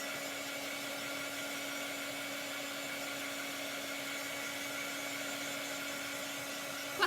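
A hair dryer blows steadily on chalk paste spread over a wooden cutout, a constant close whir with a tonal hum that holds evenly for the whole stretch, with no talking.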